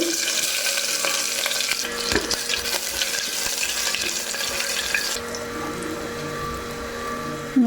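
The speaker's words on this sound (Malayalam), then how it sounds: "ഇനി ഇതിലേക്ക് കുറച്ച് ജീരകവും ഗ്രാമ്പു ഏലക്ക ഒക്കെ ഇട്ട് കൊടുക്കുന്നുണ്ട് ഇഞ്ചി വെളുത്തുള്ളി ചതച്ചത്" Cumin, cloves, cardamom, crushed ginger and garlic sizzle in hot oil in a pan, a close steady crackling hiss that eases slightly toward the end, with no voices.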